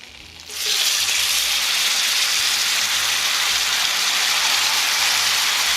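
Yellow onion, chopped Anaheim pepper and tomato drop into melted butter and sizzle loudly, a steady bright frying hiss that swells within the first second and holds without a break.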